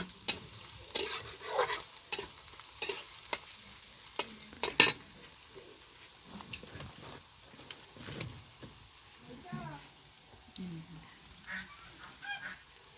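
Onions browning in a pan for a spicy southern Bengali chengo fish curry are stirred with scraping, clattering strokes over a soft sizzle, fairly faint, with some sporadic busier bursts.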